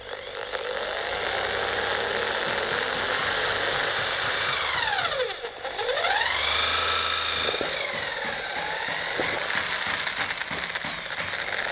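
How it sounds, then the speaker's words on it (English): A power drill fitted with an 8mm pilot bit bores into a car body, a loud steady high whine with shifting pitch sweeps that runs almost without a break, dipping briefly partway through before resuming. "Begin drilling."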